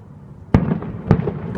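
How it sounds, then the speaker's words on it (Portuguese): Two large fireworks burst in quick succession, each a sharp loud boom followed by crackling trails, set against a busy background of distant popping. "Pô, mas são fogos gigantes."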